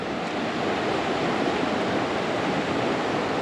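Along a hiking trail toward lower North River Falls, a river rushes in a loud, steady broadband roar that holds constant throughout without talk.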